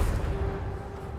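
Casting the Confringo fire spell in Hogwarts Legacy produces a muffled fiery blast, a low rumbling boom with a thin lingering tone that decays quickly at moderate volume.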